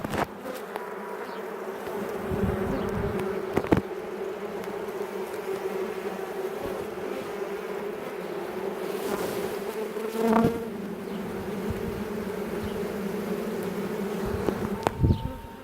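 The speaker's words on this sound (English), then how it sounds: "There is absolutely no shortage of bees in this box" A dense, continuous buzzing of many honey bees close by during a hive inspection, with occasional louder passes and light knocks or rustles of frames.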